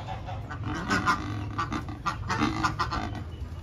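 A Cape Barren (Cereopsis) goose on a bird-breeding farm gives a run of repeated, nasal honking bursts at moderate distance. No one talks over the calls.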